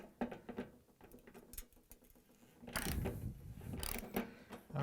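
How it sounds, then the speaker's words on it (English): A 13/16 socket wrench ratcheting a burner venturi nut loose on a Bosch/Thermador/Gaggenau gas range, giving close, quiet mechanical clicks and a rougher ratcheting burst midway, with no talk. "I'm going to use a 13/16 socket wrench."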